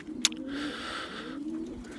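Racing pigeons in a loft coo in a low, steady murmur, with a brief flutter or sharp click near the start. The sound is close and continuous, with no talking.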